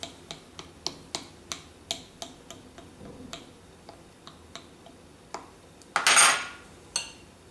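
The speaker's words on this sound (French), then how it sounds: "Il ne me reste plus qu'à la piquer avec une fourchette." A fork pricks vegan quiche lorraine pastry dough in a tart tin, giving a quick series of sharp, light taps at an uneven pace. A short scraping burst comes near the end, followed by a final tap.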